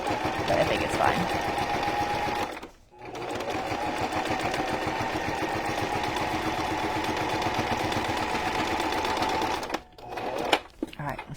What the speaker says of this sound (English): It's not the best sewing machine.